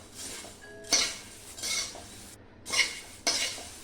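Crisp roasted garlic puffed rice (mamra) stirred and tossed in a pan, giving four or five dry rattling, clinking bursts of metal scraping and grains shifting, close and fairly quiet with short pauses between.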